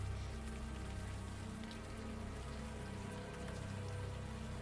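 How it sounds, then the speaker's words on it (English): Warm rain falls steadily in the adventure game Unavowed, a soft, even patter with faint droplet ticks over a low ambient hum, quiet and unbroken throughout. "the warm rain is coming down"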